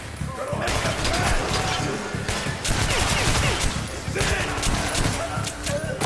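Pistol gunfire in the first-person shooter Metro Last Light, sharp shots cracking repeatedly and fairly close over steady game noise and action, with someone talking throughout.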